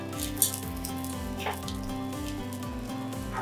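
Yellowtail fillets pan-frying over medium heat for teriyaki, a steady close sizzle that runs throughout at an even level.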